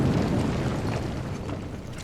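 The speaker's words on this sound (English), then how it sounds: "That was continuing results of the previous larger explosions." An explosion rumbles in Final Fantasy 7 Remake, a heavy, sustained low boom with crackling debris that gradually thins out over about two seconds.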